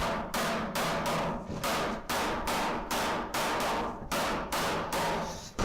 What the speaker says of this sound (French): Celles qui dépassent, il suffit de leur taper dessus pour les descendre.